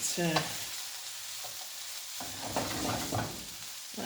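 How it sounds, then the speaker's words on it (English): Peppers cooking with aubergine and other vegetables for ciambotta, a stewed Italian vegetable dish, in a pan with a soft steady sizzle and occasional stirring scrapes, fairly quiet throughout. "And we might as well put the peppers in as well. And we're just going to let this cook"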